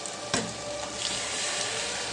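Gongura paste is stirred into a frying curry in a pan, giving a steady, moderately loud sizzle with a sharp scrape of the spoon near the start.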